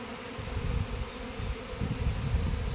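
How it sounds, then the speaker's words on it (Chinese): A swarm of honeybees escaped from a beekeeper's hive buzzing all around on a small tree outdoors, a close, continuous, dense drone with no talk. "我现在四周全都是小蜜蜂"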